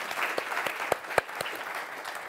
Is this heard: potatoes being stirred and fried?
no